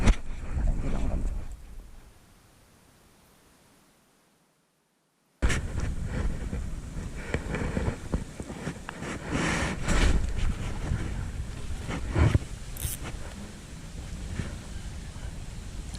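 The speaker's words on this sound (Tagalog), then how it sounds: "Ay, ang lakas ng hangin." Strong wind buffets the microphone outdoors on a freshwater fishing trip, loud rumbling gusts that drop away briefly to near silence and then return in heavy, continuous bursts.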